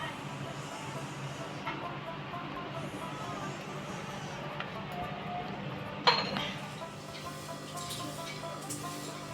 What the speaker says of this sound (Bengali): এখানে দুধ চা করবো